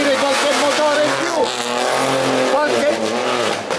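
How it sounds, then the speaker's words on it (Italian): Race car engine at a hill slalom event in Tiriolo, Calabria, roaring and revving in sharp rising and falling sweeps with brief tyre squeal, loud and close, under a commentator's continuous talk. "cominciamo a sentire qualche motore in più"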